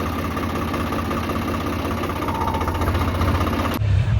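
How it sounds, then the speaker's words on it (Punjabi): An irrigation water pump motor runs in a farm field in Punjab where paddy seedling nursery beds are being sown, giving a loud, steady, droning hum that shifts to a lower, rougher throb in the final moments. "ਆ ਗਏ ਪਨੀਰੀ ਬੀਜਣ ਮੋਟਰ ਚਲਾਤੀ ਬਿੰਦਰ ਬਾਈ ਨੇ"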